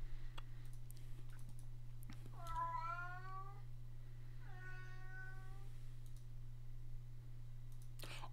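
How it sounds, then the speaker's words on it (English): A house cat meows loudly twice in drawn-out, wavering cries, near and clear over a steady low hum, with scattered keyboard and mouse clicks around them. "Kitty cat, you're so dang loud."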